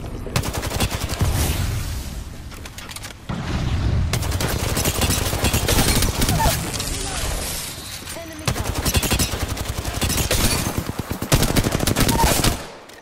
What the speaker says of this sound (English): Enemy spotted. They fire.